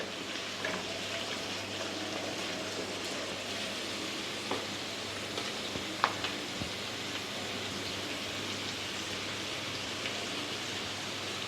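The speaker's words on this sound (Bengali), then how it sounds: "কেটে রাখা আলুগুলো দিয়ে এগুলোকে ভালো করে নাড়িয়ে চালিয়ে নেবে" Cut potatoes frying and being stirred in a pan for a Bengali chicken khichdi or pulao, a soft steady sizzle with a few faint scraping clinks of the spoon, quiet and without talk.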